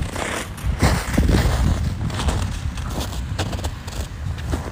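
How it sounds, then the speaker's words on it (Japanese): Footsteps crunching on frozen snow crust during a morning walk in a riverside park, steady crisp crunches close by with faint scraping, alone without talk. "はい、雪が表面凍ってるんでこんな音ですね。"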